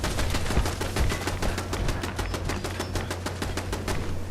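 Rapid automatic gunfire from Fallout 4 hammers out in a steady, fast rhythm, loud and close, running continuously with no talk over it.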